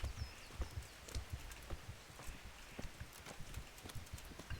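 Horse hooves clip-clop in the video game Kingdom Come: Deliverance, a faint, irregular run of soft thuds spread across a quiet outdoor ambience with no talking.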